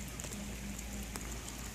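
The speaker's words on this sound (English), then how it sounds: "A rainy day today" Rain falls on an island in Montenegro ringed by mountains, with a church at its center. A dense, even patter continues without a break, broken only by a few sharper drop taps.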